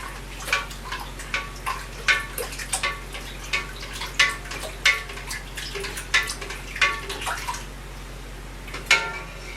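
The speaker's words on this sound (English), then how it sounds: "And we'll dump all of this in there. Give it a quick stir." Salmon brine with pineapple pieces being stirred in a container, a series of sloshing liquid swirls and light knocks against the sides, close and intermittent.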